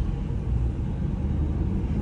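A 2000 Ford F-150 shop truck with a newly installed 4R70W transmission on its first drive gives a low, steady engine and road rumble, fairly quiet and close, with no talking.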